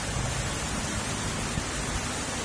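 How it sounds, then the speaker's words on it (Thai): Heavy rain pours down steadily as a dense, even hiss with a low rumble underneath, constant and close throughout without any talk. "โอ้ฝนแรงมากเลยฝนแรงะครับ"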